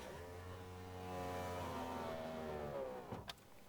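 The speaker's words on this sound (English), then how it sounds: "this car, for all its economy price tag at the time, has got the most sweet electric windows" A Renault 5 Gordini Turbo's electric window motor whirs steadily for about three seconds with the engine off, close and clear, then stops with a soft clunk and a few faint knocks.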